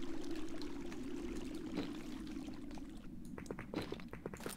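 Flowing water in the Minecraft video game, a steady close rush and trickle that runs continuously, then thins into scattered splashy drips near the end, with no talking.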